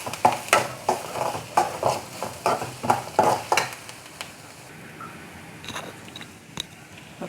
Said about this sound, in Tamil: இப்போ இந்த பக்கம் வெங்காயம் வதங்கிட்டு இருக்கு